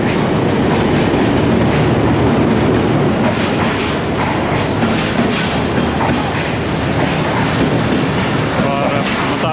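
Pakistan Express, a diesel-hauled passenger train, pulls into Gujrat railway station with loud, continuous rumbling, clattering wheels and steady rail noise up close; voices are faintly mixed in.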